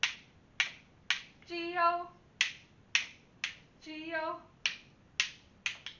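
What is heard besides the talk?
claps or rhythm stick taps during the Bingo song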